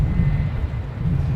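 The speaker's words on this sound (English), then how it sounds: "This will be a big right-hand turn for this 380." Airbus A380 airliner departing runway 09, a loud deep engine roar rumbling continuously and steadily across the short stretch, with no voices.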